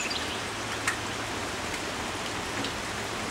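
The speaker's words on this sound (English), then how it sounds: "It sounds like a waterfall." Rain-swollen little creek rushing hard during heavy rain, a steady dense broadband roar like a waterfall, constant and fairly close throughout, with no voices.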